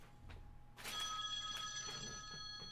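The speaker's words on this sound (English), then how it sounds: "I got a phone call." A telephone rings with a bright electronic trill, repeating in short bursts after a brief quiet start, fairly close and alone with no talk.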